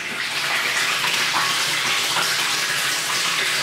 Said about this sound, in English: we could run some of that water across here